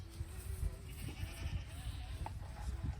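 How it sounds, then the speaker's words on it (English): Goats at an animal-feeding farm near Port Elizabeth bleat several times in short, wavering calls. A quiet outdoor background sits underneath. "More goats."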